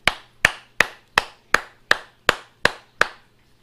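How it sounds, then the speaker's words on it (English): Mallet taps on a leather-covered wood form, working it loose from a cuir bouilli phone case: nine sharp, evenly spaced knocks with a woody ring, close and clear, with a faint low hum underneath. "You can also use a mallet."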